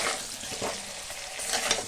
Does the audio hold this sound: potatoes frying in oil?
yes